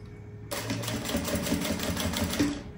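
A sewing machine starts abruptly and runs a steady, fast whirring stitch along a backpack's finishing seam, loud and close, with no talking over it.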